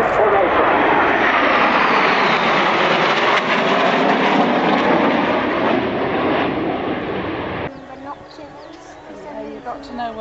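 Turkish Stars aerobatic jets fly overhead in diamond formation with a loud, sustained engine roar that cuts off abruptly near the end, leaving quieter sounds.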